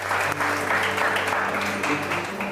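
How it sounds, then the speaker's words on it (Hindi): An audience claps for two couples on a Hindi show, dense continuous applause at steady volume with a low musical hum running beneath it. "चले बहुत सारी तालियां दोनों कपल्स के लिए"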